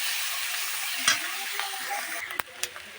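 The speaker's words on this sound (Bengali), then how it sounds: "এবার পেঁয়াজটা দিয়ে একটু ভালো করে নেড়ে চেড়ে কষিয়ে লাল লাল করে নিই" Onion paste fries in a pan for a fish curry, a soft steady sizzle broken by a few sharp utensil knocks and scrapes of stirring, close and moderately quiet.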